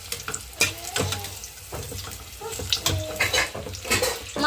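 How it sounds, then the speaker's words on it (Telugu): Chilli bajji fritters deep frying in hot oil, a steady bubbling, crackling sizzle close by with scattered louder pops and clatters, no voice over it. "బాగా కలర్లోకి వస్తే మనకి కలర్ మారేంత వరకు ఫ్రై చేసేసుకోవాలి"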